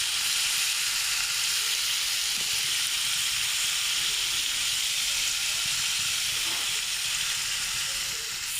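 Onions fry in a pan with a steady hissing sizzle that holds at an even, fairly loud level throughout, with no speech.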